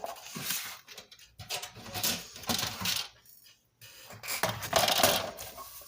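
Card stock being scored and trimmed for a handmade get-well card, a run of close, dry scraping and clicking strokes in uneven bursts with brief pauses, no talking.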